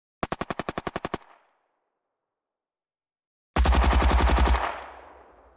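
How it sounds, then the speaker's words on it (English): Gunfire sound effect shaped with a compressor into Hollywood-style shots. A short, dry burst of rapid automatic shots comes first. After a pause, a much louder, denser compressed burst follows, booming and then decaying into a long tail. "That sounds a lot more like the Hollywood guns that I'm going after"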